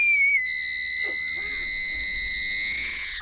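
A scream taken from a news recording: one loud, sustained, piercing high-pitched cry holding steady for about three seconds before cutting off, heard alone.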